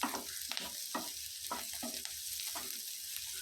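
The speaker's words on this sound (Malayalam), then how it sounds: "ശേഷം തീ ഹൈ ഫ്ലെയിമിലിട്ട് രണ്ട് മിനിറ്റ് നന്നായിട്ടൊന്ന് വഴറ്റിയെടുക്കുക" Onion and capsicum sauté over a high flame, a faint, soft hiss of sizzling broken by repeated brief scrapes and clinks as they are stirred, with no voices.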